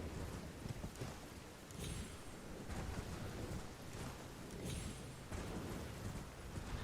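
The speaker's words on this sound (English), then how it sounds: "I didn't even know you could get hit by the lightning" A lightning strike and rumbling thunder in the video game Elden Ring, booming over a dense wash of storm noise, with sharp cracks and surges recurring through the stretch.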